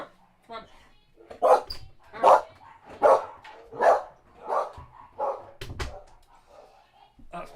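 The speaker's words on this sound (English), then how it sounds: "the dog's going balmy" A dog barks close by in a steady run of about eight loud barks, evenly spaced, in a home setting, with a few softer yips trailing off at the end.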